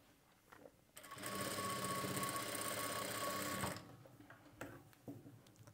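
A sewing machine stitching folded piping runs in one steady burst of rapid mechanical ticking for about three seconds, fairly close, with quiet handling noises before and after.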